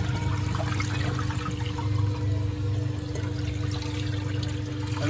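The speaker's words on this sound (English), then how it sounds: "It's filling again for another rinse." A Bosch WFP3300 dishwasher fills with water for another rinse during a 90-degree wash. Steady rushing and gurgling water runs unbroken, heard from close by with no voices.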